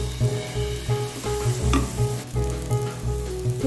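Ground red chilli, cumin and coriander powders sautéing in a pan for palak paneer, a steady close sizzle with rhythmic scraping strokes of a spoon stirring the spice paste.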